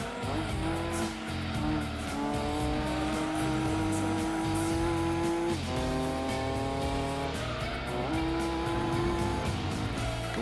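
Engine of a 390 hp Nissan Skyline racing in Gran Turismo 2, a loud steady synthetic drone whose pitch climbs and drops through gear changes, with tire squeal, continuous for the whole stretch.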